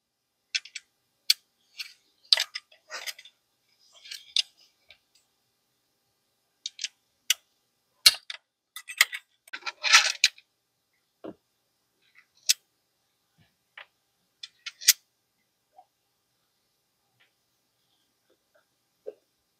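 The supplied wrench works the barrel shroud screws of an ATI Bulldog 12-gauge shotgun, making sparse short metallic clicks and taps, close and fairly quiet, with long silent gaps between them.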